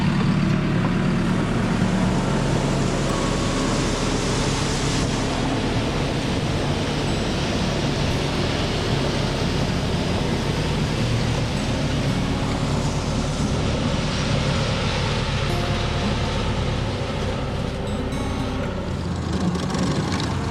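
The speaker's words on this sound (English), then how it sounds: "Model A's even handling the bumps pretty good." A 1929 Ford Model A rolling over a bumpy railroad track grade, giving a loud, continuous rumble and rattling roar throughout, close and steady, with no talking.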